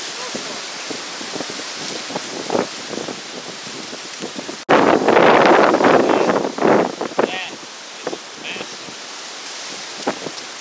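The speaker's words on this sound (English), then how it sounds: "Awful lot of wind up here today, too." Strong wind gusting through the woods near an old airshaft, a steady broad roar that surges much louder partway through, with occasional speech mixed in.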